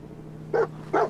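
Two short dog barks in the video game Fallout 4, spaced about half a second apart over a low steady hum, moderately close and without talk.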